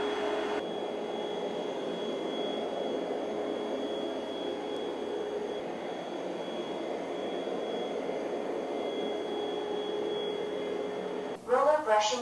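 An Ecovacs T50 Max Pro Omni robot vacuum runs in vacuum-only mode at maximum suction, giving a steady, close whining motor drone that holds evenly for about eleven seconds before a brief mechanical rattle near the end.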